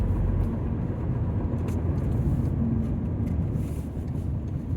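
A cheap old £500 car's engine drones at full throttle, heavy and strained, a steady low rumble from inside the cabin that barely changes pitch as the car labours along.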